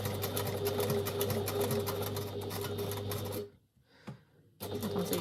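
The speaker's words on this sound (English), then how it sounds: "Okay, and that's our top stitched down the centre front there." Sewing machine top stitching down the centre front of a dress with a larger needle and a 3mm stitch, running in a loud steady whir, pausing briefly with a single short burst, then starting again.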